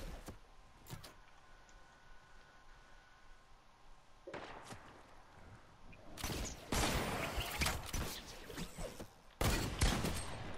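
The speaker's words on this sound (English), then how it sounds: "Oh, that's a shotgun, never mind." Shotgun fire in Fortnite, several sharp booming blasts, two isolated early shots and then a rapid cluster of loud close bursts later on, with quiet gaps in between.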